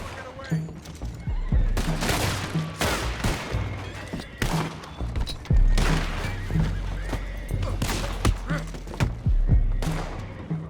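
Horses neigh and whinny repeatedly in Red Dead Redemption 2 on PC, mixed with bursts of gunfire, thuds and hoofbeats throughout, with voices now and then.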